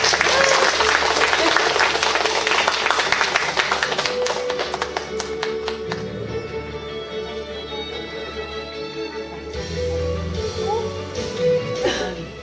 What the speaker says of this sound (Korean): 우리 뜨거운 박수로 환영해 주시기